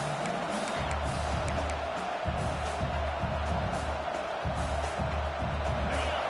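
In the video game College Football 26, an Ole Miss versus LSU matchup, a home crowd cheers as a dense continuous roar, with a low pulsing rumble underneath and no clear talk.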